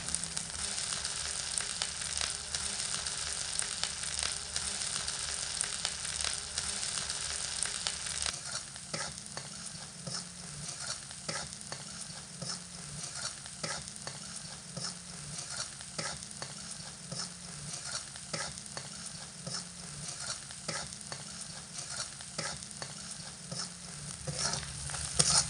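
A spice masala with salt and turmeric is sautéed in a pan, giving a constant soft sizzle with repeated scraping stirs that continue for a long stretch, fairly quiet, with no voices.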